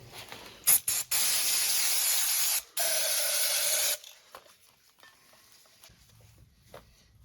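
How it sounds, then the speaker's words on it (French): Aerosol silicone spray sprayed from a can onto a rubber CV joint boot on a car's front axle, heard as a few short hissing bursts followed by a long steady hiss, then quiet handling sounds. "j'utilise en fait du silicone en bombe"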